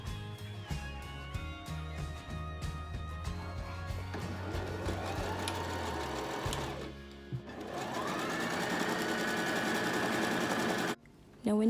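Sewing machine stitching a satin and chiffon scrunchie, a steady close motor whir running nearly throughout with speed shifts, briefly easing near the end, under faint background talk.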